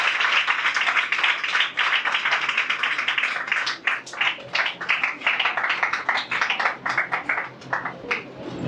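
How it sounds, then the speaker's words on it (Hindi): An audience at a women's church meeting in Jaypur, Odisha claps together in a dense, close burst of applause that swells, dips briefly, then resumes with uneven, scattered hand claps. "आइए हम ताली बजाकर उनका स्वागत करें"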